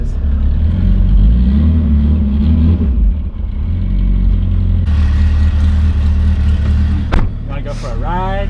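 A 1000whp Mitsubishi Evo 9 on 48 psi of boost idles and revs with a deep rumbling engine heard from inside the car, with people talking over it and a sharp burst near the end.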